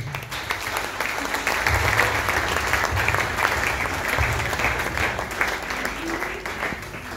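A church congregation at a prayer meeting applauds steadily to acclaim the Lord, a loud, continuous wash of clapping lasting the whole stretch, with a voice speaking faintly beneath it.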